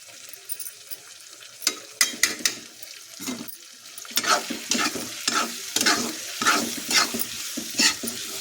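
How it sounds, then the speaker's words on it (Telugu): Food fries in a pan with a steady sizzle while a spoon stirs and scrapes in irregular bursts as salt and chili powder are mixed in. The scrapes are close and grow busier in the second half. "ఇప్పుడైతే ఇది వేగింది కదా, ఇప్పుడు ఉప్పు కారం వేసుకుందాము."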